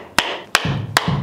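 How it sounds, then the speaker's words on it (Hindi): Hammer striking a car motor to knock it loose, three loud evenly spaced metallic blows within about a second, each followed by a brief low buzzing rattle. "हथौड़ा हो जाते हैं"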